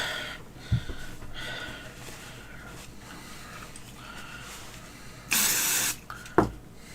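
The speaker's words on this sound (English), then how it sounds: "So what I will do is quickly clean my airbrush." An airbrush being cleaned gives one short, loud burst of spray about a second long, followed by a sharp click, against a quiet room background.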